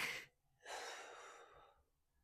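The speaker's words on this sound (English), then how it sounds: "It's a great way to warm up our deep breathing before we go out for a run as well." Deep breaths taken during a pre-run yoga flow, a short sharp inhale followed after a pause by a longer, fading exhale, close and soft with no talking.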